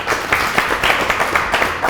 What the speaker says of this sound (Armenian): մի հատ խնդրում եմ եկեք ծափահարենք ինքները ձեզ